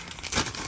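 Crinkling and tearing of the plastic packaging bag around a portable backpacking camping stove as it is opened, a brief close crackle with no voices.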